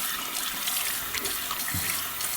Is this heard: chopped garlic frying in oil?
no